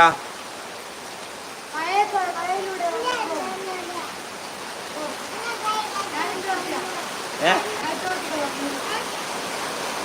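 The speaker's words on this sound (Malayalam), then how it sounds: "ഇതാണ് ഇന്നത്തെ നല്ല അടിപൊളി മഴ പെയ്തുകൊണ്ടിരിക്കുന്ന" Heavy rain pours down steadily in a broad, even hiss that runs the whole time, while people talk over it.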